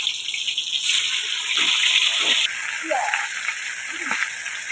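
Pangas fish pieces hiss and crackle as they are dropped into hot oil in a wok, a steady bright sizzle that swells and then drops abruptly, with talk over it.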